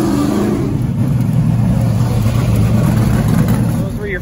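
Late model race cars revving engines at the start of a heat race, a loud continuous low engine roar that holds steady and eases slightly near the end, with voices mixed faintly into the din.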